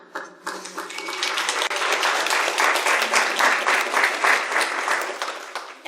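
An audience at a Lyme disease conference breaks into sustained applause, dense steady clapping from a full room that swells quickly and holds for several seconds.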